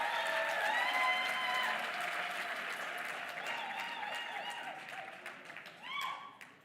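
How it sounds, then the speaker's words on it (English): A round of audience applause at an inter-college entrepreneurship event, loud at first and then gradually thinning, with voices and cheers rising through the clapping and a brief swell near the end. "Can you please give them a round of applause?"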